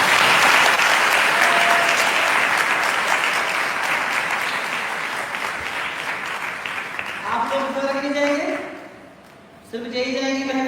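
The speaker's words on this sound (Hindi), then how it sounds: "जोर से यीशु के लिए ताली बजाइए।" Church audience clapping loudly and continuously for Jesus at a Hindi-language prayer service, a dense wash of applause that thins toward the end as a voice begins speaking over it.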